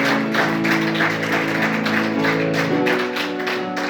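Church congregation applauding during a Spanish-language service, a steady dense wash of clapping under sustained organ-like tones, fairly loud and continuous throughout.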